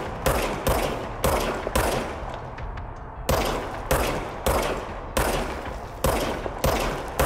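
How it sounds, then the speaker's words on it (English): A gun fires in the game Control in repeated loud bursts, each volley sharp and close with a short decay, coming in a steady rhythm with a brief lull near the middle. "now I have a gun"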